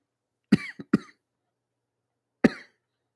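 Three or four short, sharp coughs come close to the microphone, a quick cluster of two or three and then one more after a pause of about a second and a half, in an otherwise silent room.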